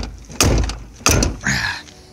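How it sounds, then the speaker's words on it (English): The door of a 1990 Ford Bronco off-road truck slams shut with heavy metallic thuds, two sharp impacts about half a second apart and then a rattling tail, loud and close. "I hate that fucking door right now."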